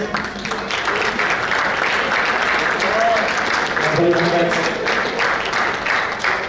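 A crowd at a cricket awards banquet claps steadily for several seconds, a dense even patter of many hands, with a few voices briefly audible underneath.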